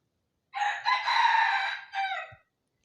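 A rooster crows once, loud and close, a long harmonic call with a brief break before a final drawn-out note, in an otherwise quiet setting.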